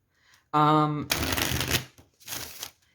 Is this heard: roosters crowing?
no